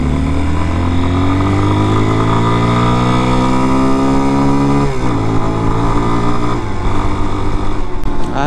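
A 2022 Peacesports Brozz Recon 250 motorcycle with a counterbalanced engine, being broken in while riding on knobby tires: a loud, smooth engine drone whose pitch climbs steadily, drops at a gear change, then rises again.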